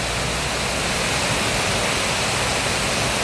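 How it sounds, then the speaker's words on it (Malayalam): An artificial waterfall beside a hotel in Bangsar South, Malaysia, rushes in a loud, close, continuous roar of falling water with no talking. "ഹോട്ടലിൻ്റെ അടുത്തൊരു ഇങ്ങനെ ഒരു ആർട്ടിഫിഷ്യലായിട്ട് ഇങ്ങനൊരു വെള്ളച്ചാട്ടം പോലെ ചെയ്ത് വെച്ചിട്ടുണ്ട്."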